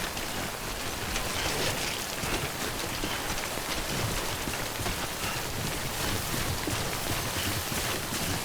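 Timefall rain pouring in the video game Death Stranding, a dense, steady hiss of falling drops with a faint low rumble beneath, constant and loud with no voices.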